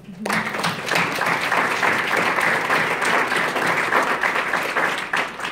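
Audience applause for a woman at a business seminar, dense continuous clapping starting abruptly and holding at an even, fairly loud level throughout.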